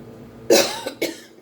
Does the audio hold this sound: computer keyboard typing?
no